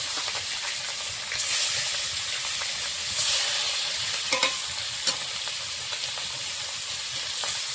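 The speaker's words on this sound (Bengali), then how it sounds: "মেখে রাখা মাছগুলো ভেজে নেব" Steady hiss of fish frying in hot mustard oil in a kadai, with scraping stir sounds and a few sharp clinks of a utensil against the pan.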